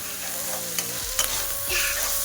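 Ginger and garlic paste being stir-fried on low heat for a prawn curry, heard as a soft, steady sizzle close by with a few spatula scrapes and clinks and no talking.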